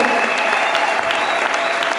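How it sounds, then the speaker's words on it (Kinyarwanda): A church congregation claps in a brief, dense burst of applause, steady and fairly loud throughout. "Amashyi menshi."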